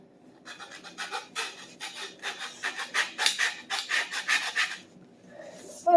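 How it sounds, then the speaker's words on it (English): Hand saw cutting through a hammer handle to remove the head, a close series of steady rasping back-and-forth strokes that build in loudness before stopping. "I'm gonna take this mark off by sawing the head off."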